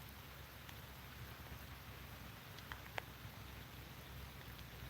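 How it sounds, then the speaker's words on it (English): Rain falls steadily at night on a lake during fishing between thunderstorms, a constant even hiss with scattered closer drops and one sharp tap, no voices. "That rain actually feels good after as hot as it's been today."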